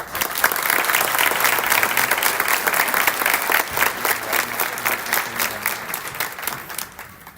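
An audience at a high school awards ceremony applauds, a dense, loud wash of clapping hands from a large crowd that thins toward the end.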